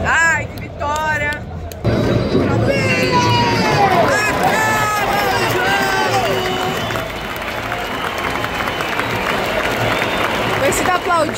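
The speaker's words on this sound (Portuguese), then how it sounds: "Você tá aplaudindo." A football crowd at a Portuguesa versus Palmeiras match applauds and cheers after a win, broad crowd noise swelling after a brief lull, with a voice talking and whistle-like tones over the clapping.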